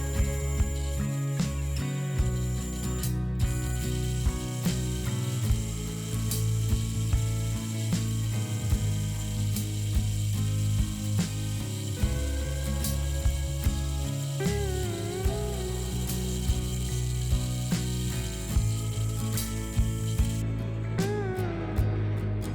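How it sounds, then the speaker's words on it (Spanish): A bench drill press bores into a steel rod with a 3/8 bit, giving a sustained mechanical whir with grinding, rattling and clicking from the workpiece, continuous and close for over twenty seconds without talk. "Lo colocamos en la prensa y perforamos con broca de 3/8."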